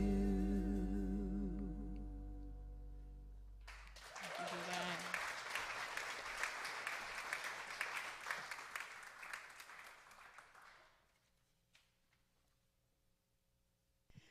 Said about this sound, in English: Let's give another round of applause for how blessed we are with our music.